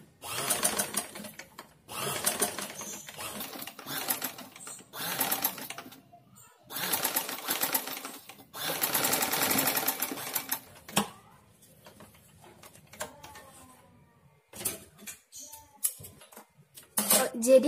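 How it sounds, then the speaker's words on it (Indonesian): Sewing machine running in bursts as it stitches the side seam of a dress, with steady mechanical whirring runs separated by short pauses and quieter handling noise between them. "Terus kita jahit sebelahnya lagi."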